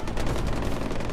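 Gunfire in Far Cry 4 rattles in a dense, continuous burst of loud rapid shots, filling the whole brief moment without any voices.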